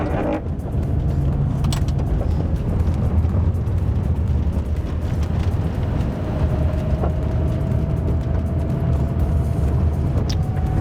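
V10 Lamborghini pulling away from first gear on a snowy road, a continuous loud engine roar and rumble lasting about ten seconds, heard from inside the car with a few light clicks and knocks.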